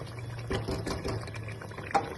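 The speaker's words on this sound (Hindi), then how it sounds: "अब इसमें 1 अदद कप पानी का डालेंगे" A cup of water poured into a pan of chicken curry, a short close splashing pour with a bubbling sizzle and a sharp clink near the end.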